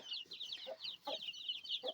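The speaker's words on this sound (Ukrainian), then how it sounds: "Ось це малі курчата з квочкою." A hen with chicks clucking close by, with repeated high chirping peeps over a few soft low clucks, busy and continuous.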